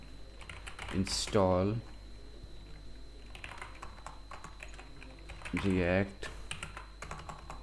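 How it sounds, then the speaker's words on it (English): Keyboard typing, a React Native developer entering an npm install command for a navigation package, clatters in steady quick bursts close to the mic, broken by two short stretches of talk. "So what we will do is type out npm"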